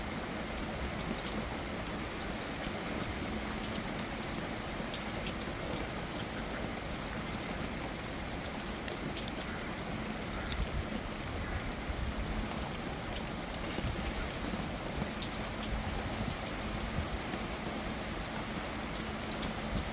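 Heavy rain pouring down steadily near the coast, a dense continuous hiss of drops on surfaces with scattered sharper splats, fairly close and unbroken for the whole stretch, no voices.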